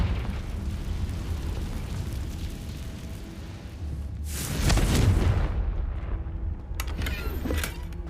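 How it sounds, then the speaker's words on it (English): A Confringo fire spell explodes in Hogwarts Legacy, a loud booming burst that swells suddenly after steady low rumbling game ambience and trails off into a crackling fade. "Confringo!"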